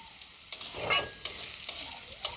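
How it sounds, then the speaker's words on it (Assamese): Potatoes half-fry in hot oil for a potato curry, a soft steady sizzle broken by a few sharp scrapes and stirs of the spoon. "মই প্ৰথমতে আলুখিনি হাফ ফ্ৰাই কৰি ল'ম।"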